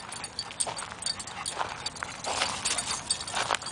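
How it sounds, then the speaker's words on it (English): Several dogs play together at a dog park, with scattered yips, panting and scuffling paws in quick irregular bursts, moderately close against outdoor background noise. "We have a bunch of doggies together."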